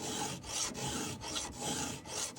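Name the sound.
hand filing saw teeth on hardwood saw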